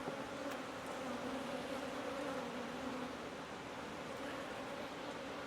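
A steady, dense drone of honey bees fills a queenless hive with no brood. The buzz holds the same level throughout at close range, with a faint hum underneath and no voices.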